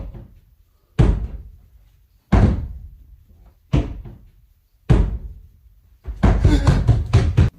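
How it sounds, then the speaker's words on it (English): Door in a haunted house, heard as four sharp thuds about a second apart, each fading into a short rumble, then a longer louder rattling bang at the end, all close with no talking. "He opens the basement door and footsteps can be heard running up"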